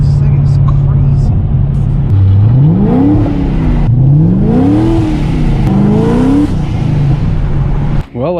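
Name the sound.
car engine revving at 75% throttle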